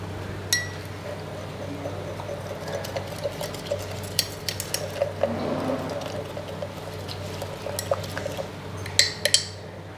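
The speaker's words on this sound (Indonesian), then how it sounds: "Kita aduk." A spoon stirs hot water, powder and sweetened condensed milk in a glass for an iced avocado espresso drink, with scattered light clinks against the glass over a quiet hum.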